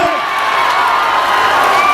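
Crowd at a Bharatiya Janata Party rally in Gorakhpur clapping and cheering to welcome Yogi Adityanath, a loud, continuous wash of applause and shouts from a large audience.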